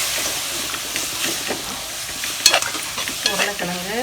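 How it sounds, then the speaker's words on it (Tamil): Spoon stirring through chapathi kurma in a hot pan with coriander and mint, giving a soft continuous sizzle with scraping clicks and a few sharper clatters, fairly close and without talk. "கொத்தமல்லி, புதினா எல்லாம் போட்டு ஒன்றா கிண்டிட்டு அவ்வளோதான்."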